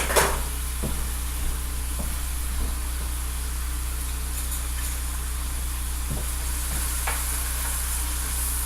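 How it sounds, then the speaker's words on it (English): Hamburger and pork frying in a pan, a steady hissing sizzle throughout with occasional faint scrapes and taps of stirring, no voices. "Make sure to consistently stir your hamburger and your pork so you don't burn it."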